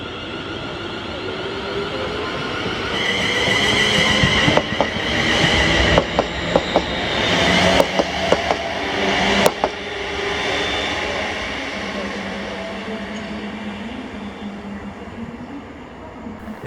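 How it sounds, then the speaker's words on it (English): ScotRail passenger train on the 1559 Glasgow Central to Largs service passing through Paisley Gilmour Street station, a steady close rumble of wheels and carriages with sharp clicks and squeals as it runs through, easing off toward the end. "this was 1T15, the 1559 ScotRail service to Largs from Glasgow Central"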